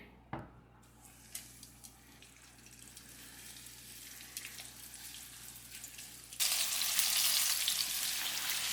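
Pork loin fries in oil in a pan, a faint sizzle with small clatters and kitchen noise, turning into a loud, hissing sizzle near the end.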